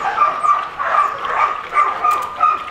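A Rottweiler yelps, whines and barks in short repeated bursts at close range, with high strained cries recurring every half second or so and a steady rough background throughout.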